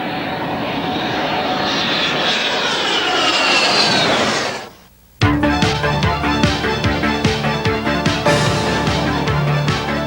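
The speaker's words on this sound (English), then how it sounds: "such as these A-7 Corsair attack aircraft" A-7 Corsair attack jets roar loudly as they pass, the engine noise swelling and then cutting out abruptly, followed by a busy stretch of repeated clanks and rhythmic mechanical thumps.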